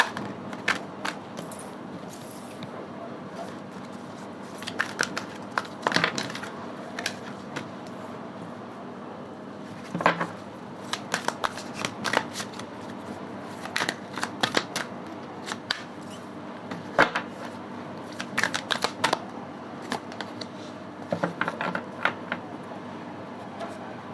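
Tarot cards being shuffled by hand, a steady run of soft papery riffles and taps in irregular bursts across the whole stretch, close and fairly quiet, with no talking.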